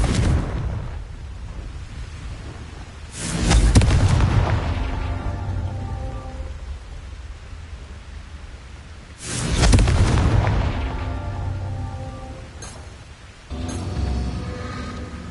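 Two heavy Confringo fire-spell blasts from Hogwarts Legacy on PS5 boom out several seconds apart, each a loud burst that crackles and decays into a rumbling, debris-like patter, followed by a smaller third impact.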